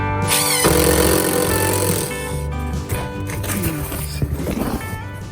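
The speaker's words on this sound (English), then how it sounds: "Anytime you're getting ready to drill holes in your camper, you're still a little nervous." A power drill whirs steadily at close range, drilling holes in a camper wall, its motor pitch shifting as the bit bites in, with some clattering handling noise near the end.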